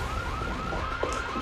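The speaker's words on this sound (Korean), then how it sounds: "수술실에 전파 탐지기가 있는 것 같아요." A radio frequency detector alarm sounds in a hospital operating room as a steady, wavering electronic tone that continues throughout the short moment.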